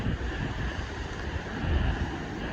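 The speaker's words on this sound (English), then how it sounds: "Still some big waves coming through." Big ocean waves crash and roll at St Brides Haven in heavy weather, a continuous deep roar of surf mixed with buffeting wind on the microphone, loud and unbroken.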